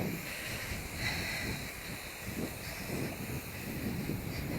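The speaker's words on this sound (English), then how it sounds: "Wind. Hopefully not too bad in the microphone." Wind buffets a microphone beside the Loire river in Tours, giving a steady rumbling roar with gusty low-end thumps and hiss throughout, with no voices.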